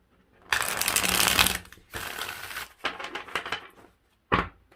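Tarot cards being shuffled by hand, several quick riffling bursts of crisp papery flutter separated by short pauses, close and clear with no talking.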